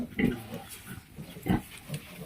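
A sow and her piglets on a pig farm make short nasal grunts and snorts, several close bursts in quick succession, moderately loud with no talk.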